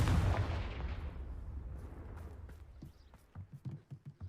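A Confringo spell blast booms in a Harry Potter video game, a loud low burst fading into rumbling debris, followed by a quick series of sharp thumping impacts near the end.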